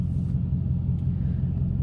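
A car rolls by on a road nearby, a steady low engine rumble that holds through the short stretch with no one speaking.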